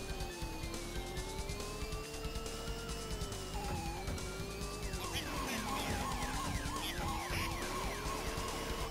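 A police car siren wails in the arcade racing game Turbo OutRun, its wavering tone rising and falling steadily over constant engine and road noise, loud and continuous throughout.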